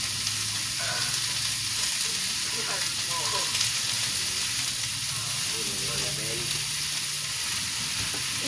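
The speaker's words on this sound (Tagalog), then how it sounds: "guys, gisahin na natin" Food sautéing in a pan, a steady close sizzle and frying hiss running throughout, with occasional scraping stir sounds from a spoon.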